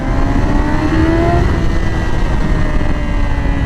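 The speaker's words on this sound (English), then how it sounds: "even though this exhaust is super muffled, like" A Yamaha R6 inline-four sport motorcycle engine drones steadily up close, its exhaust muffled and humming with a smooth, high-pitched tone.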